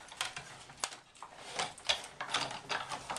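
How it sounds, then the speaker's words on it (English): A Big Shot die cut machine is cranked by hand with a card sandwich inside, giving a faint, close ratcheting and grinding of gears over a few seconds. "run this through my die cut machine here"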